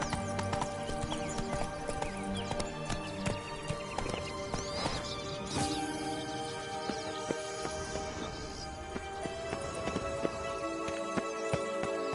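Hooves of a ridden horse galloping in the Witcher 3 video game, a steady rapid clip-clop rhythm throughout with a brief whinny and game ambience layered over it, no voices.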